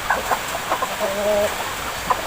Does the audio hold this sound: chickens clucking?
yes